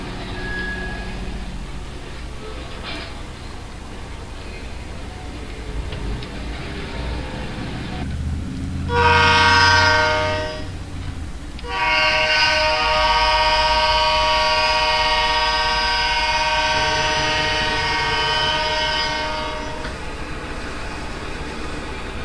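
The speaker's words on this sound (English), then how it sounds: "the train rolls out of West Mill and heads to Mayfield Yard" Freight train with rail cars rolling out of West Mill toward Mayfield Yard, a steady rumble with tonal squeal and horn-like harmonics, a brief louder burst around nine seconds, then sustained rolling noise, no talk.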